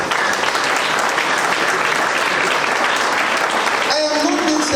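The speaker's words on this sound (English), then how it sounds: "Great applause to all that have served their school." A school gathering's crowd breaks into loud, continuous applause, a dense wash of clapping that holds steady throughout, with a voice briefly audible near the end.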